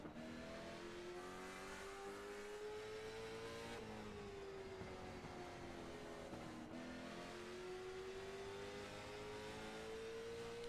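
Engine of the number 12 race car in a NARL sim race, a steady droning whine rising through the gears with two clear shift drops, continuous and close as if riding alongside.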